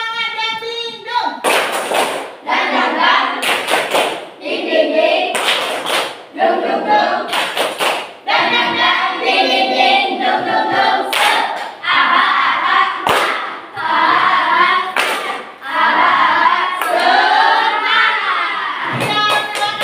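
Children in a classroom clap along in a rhythmic clap game, bursts of hand claps and table thumps interleaved with a teacher's voice and kids chanting.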